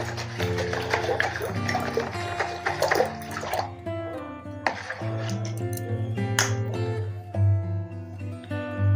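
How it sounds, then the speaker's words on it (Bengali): Water mixed with a spoonful of shampoo being stirred by hand in a basin, steady close sloshing and splashing with soft swirling, fairly continuous, over a faint musical background. "এবার জলটাকে ভালো করে গুলিয়ে নিতে হবে।"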